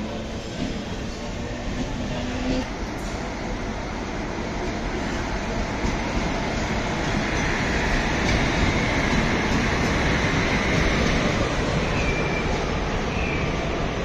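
A MEMU express train pulls away from a village station in Andhra, its broad rumble and rolling clatter swelling slightly as it gathers pace, close by and continuous, with faint voices mixed in.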